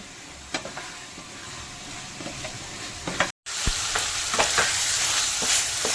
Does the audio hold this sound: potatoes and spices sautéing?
yes